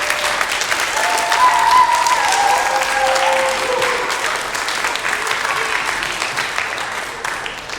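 Theater audience applauding a school stage production of The Diary of Anne Frank, a loud, full crowd clapping that swells early and slowly tapers, with faint voices briefly audible underneath.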